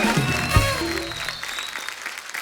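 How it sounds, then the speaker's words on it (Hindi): A studio audience claps for guests Karan and Vipasha on a comedy talk show, a short burst of applause with a host's voice over it. "जोरदार तालियां करण और विपाशा के लिए।"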